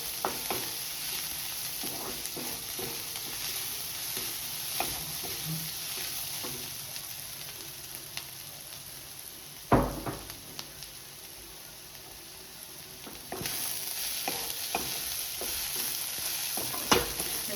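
Onion, garlic and coconut stir-fry in hot oil in a pan, a constant close sizzle with spatula scrapes and stirring knocks, one louder clatter midway and the frying rising again near the end.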